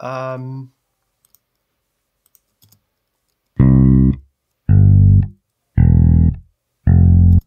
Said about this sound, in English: we're gonna now listen to bass patterns